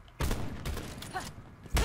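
Sniper rifle fire in Black Ops 4: several sharp, loud cracks spaced across a couple of seconds, with a final close, heavy shot at the end, over quieter game noise.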